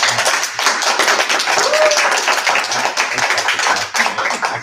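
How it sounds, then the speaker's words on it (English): An audience at an evening gathering on the history of Indian boarding schools claps together in a sustained, dense patter of hands, loud and close throughout with a faint voice briefly rising among it. "A well-deserved round of applause."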